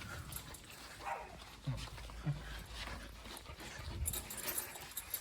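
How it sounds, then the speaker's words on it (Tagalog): A dog near an apartment unit whimpers and pants in short, soft bursts, with a couple of brief yips, against a faint, noisy background and no clear speech. "May aso kasi doon."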